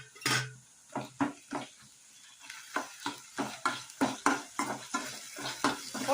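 Tomato being stirred into ginger garlic paste in a pan, a soft sizzle under a run of rhythmic scrapes and clinks of a spoon against the pan, about a dozen strokes close up with no talk.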